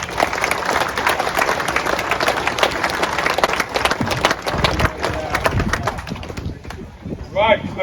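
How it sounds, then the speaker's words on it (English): Audience applause at a car show awards ceremony, a dense burst of clapping from the crowd with some cheering and voices mixed in, loud and sustained before thinning toward the end. "Big round of applause for Chris J."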